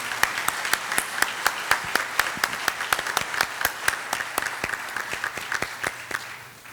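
Audience at a Colombian mining fair panel on gold mining applauds the speakers, a small group clapping in a fairly sparse, rhythmic patter of distinct hand claps, moderately close and fading toward the end.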